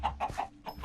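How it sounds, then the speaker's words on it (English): Chickens clucking in the video game Chatterblocks, a few short rhythmic clucks repeating in quick succession, fairly close and alone. "Maximum number of breeding chickens has been reached."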